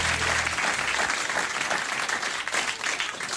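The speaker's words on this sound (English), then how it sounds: "despite not being able to hear the punchline, because of an audio screw-up, they applaud anyway" Studio audience applause at a late-night talk show, a dense, steady wash of clapping that fills the stretch from start to finish without pause.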